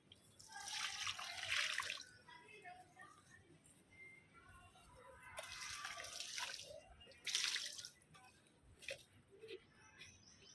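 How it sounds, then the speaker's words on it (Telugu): Water pours onto potted plants being watered in bursts: three soft splashing gushes at a fairly low level, separated by quieter pauses with a few drips. "ఇలా నేను అన్ని మొక్కలకి వాటరింగ్ చేసేసి మీతో కలుస్తాను"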